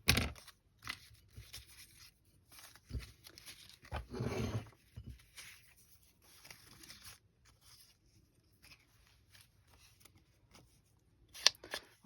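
Scissors snip quietly several times at close range, with soft rustling and a few louder clicks in between.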